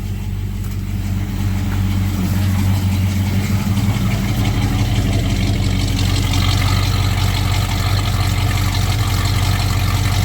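A car engine with a stock cast iron exhaust manifold and stock mufflers runs steadily, a loud, constant low rumble close by with no change in pitch or talking over it.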